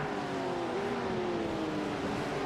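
Race car on the Spa circuit in a four-hour endurance race, engine droning steadily at close range with a held, slowly falling pitch as it brakes late down the inside, with no voices.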